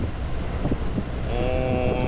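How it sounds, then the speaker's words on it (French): Wind gusting across a sailboat as it comes into port at Puerto Calero, Lanzarote, a steady loud rushing roar with low buffeting and a faint tonal hum rising partway through. "Le vent vient de se lever malheureusement, mais c'est pas grave."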